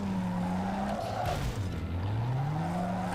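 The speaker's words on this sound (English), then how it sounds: "This engine actually sounds like a V6." A V6 car engine in Need for Speed Underground 2 drones steadily with shifting pitch, accompanied by tire skidding noise, with continuous motor sound throughout.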